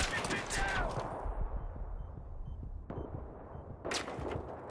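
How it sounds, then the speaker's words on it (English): Gunfire in a Battlefield-style online squad shooter: several sharp shots and booming blasts of varying distance, with rumbling battle ambience between them and a voice talking faintly underneath. "Look at this terrible shooting."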